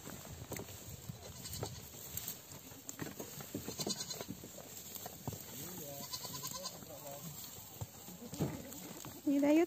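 A young billy goat bleats intermittently during milking in a barn, the calls close and moderately loud, with a person talking quietly at times and livestock shuffling nearby.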